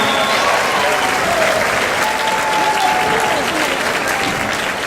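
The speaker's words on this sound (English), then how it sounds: "give them a round of applause" A large crowd at an Edgewood High School graduation applauds the students' families, a dense, loud, sustained wash of clapping that fills the hall for several seconds, with faint voices mixed in.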